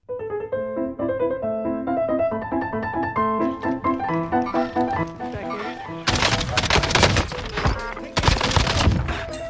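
Shotguns fire in Call of Duty Warzone on Rebirth Island: after a stretch of melodic music, two loud, booming blasts break out, each with a noisy echoing tail.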